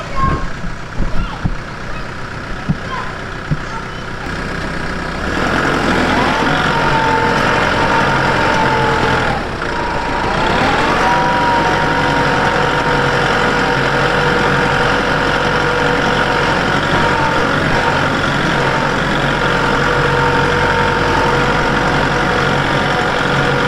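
A vehicle engine runs steadily for a long stretch, first with some clatter and knocking, then settling into a loud, constant drone with a rising whine.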